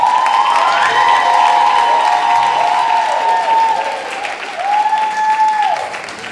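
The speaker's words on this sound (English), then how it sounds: "I want everybody here to give her a round of applause." Crowd at a New York Fashion Week show applauding and cheering, loud and sustained, with whoops and high tonal shouts riding over the clapping throughout.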